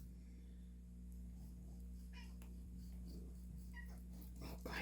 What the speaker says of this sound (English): I'm not sure if you can hear my cats purring.